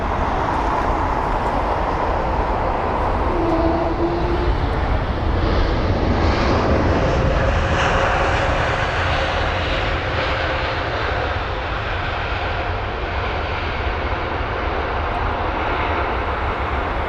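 A jet airliner arrives on runway 27 right at London Heathrow, its engines a loud, steady broadband roar that swells slightly and holds throughout.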